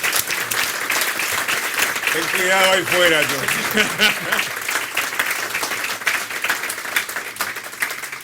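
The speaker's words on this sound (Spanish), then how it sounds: "Vamos a dar un fuerte aplauso a Juan Ramón" Dense audience applause at a debate on the liberal economic model, loud and continuous, with someone speaking briefly over the clapping partway through.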